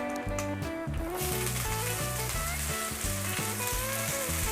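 Loud continuous sizzle of bean sprouts frying in a hot wok, with a steady crackling hiss and faint music in the background.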